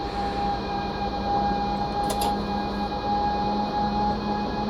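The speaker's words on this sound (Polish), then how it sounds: "W tej lokomotywie pomiar długości pociągu ma nawet oryginalny dźwięk z tej lokomotywy" Train length measurement tone in a BR 189 electric locomotive cab in Train Simulator Classic, a steady sustained electronic beep over a constant cab and running hum, with a brief click partway through.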